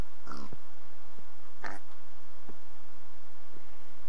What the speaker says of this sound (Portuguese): Nossa, que cabeçudo esse porco.